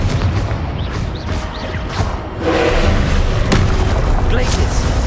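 Confringo fire spell explosions in the video game Hogwarts Legacy, a series of loud booming blasts over a constant rumbling game soundscape, with a heavier burst about midway.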